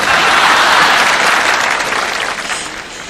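Sustained audience applause fills a concert hall after a love song, steady and dense from the start, then gradually thinning and fading toward the end.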